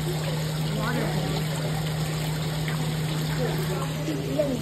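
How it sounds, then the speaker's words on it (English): A small indoor waterfall pours into a coin pond at a buffet restaurant, a steady soft hiss of running water under a constant electrical hum, with people talking nearby. "Is that waterfall?"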